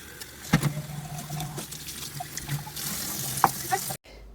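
Tap water runs and splashes into mason jars for a hydroponic indoor garden, a close, fairly loud stream with a few clinks and gurgles before cutting off abruptly near the end.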